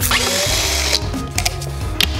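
A Forstner bit bores into a thick plastic wall with a steady motor whine and grinding cut, and a couple of brief clicks toward the end.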